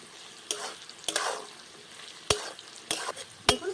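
Amla pieces are stirred in oil with salt and turmeric, several sharp spoon scrapes and clacks against the pan at irregular intervals over a soft background sizzle.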